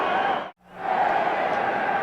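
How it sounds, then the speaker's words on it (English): A packed football stadium crowd at the 1985 NFC Championship, Rams at Bears, keeps up a dense, continuous roar, broken by a brief dip before surging back just as loud. "The crowd is intense"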